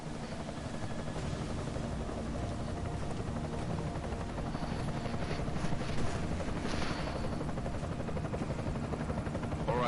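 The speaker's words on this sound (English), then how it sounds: "Enemy helo sighted." Steady, dense rotor thump and engine roar of an enemy helicopter in Deus Ex: Mankind Divided, loud and continuous throughout without letting up.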